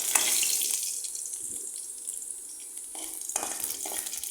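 Curry leaves crackle and sizzle in hot oil while tempering for rasam, a steady bright frying hiss with a few sharper pops and bursts, close and continuous with no voices.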